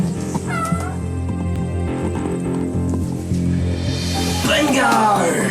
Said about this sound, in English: here we have one little kitten stuck down the drain